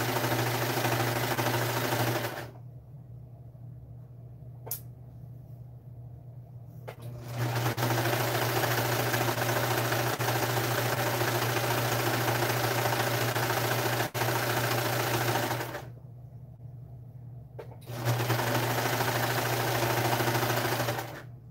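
A sewing machine stitches pajama pants, whirring in long, steady, close-up runs with a mechanical hum, twice stopping briefly before starting up again.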